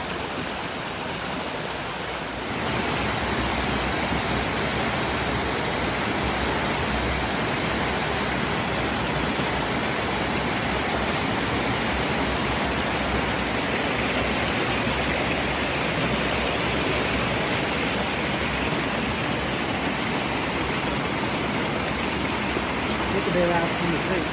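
A waterfall roars in a constant, dense rush of falling water, loud and steady throughout, with no other clear sounds.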